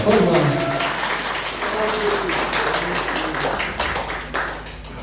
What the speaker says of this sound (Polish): Dziękujemy wielkie brawa